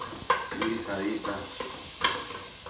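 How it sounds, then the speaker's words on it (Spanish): Chopped onion sautés in a pot with garlic for a cauliflower soup, sizzling steadily under a few distinct scraping stirs of a spoon. "Vamos a echar la cebollita. Así, miren, cortadita. Vamos así, a guisarla."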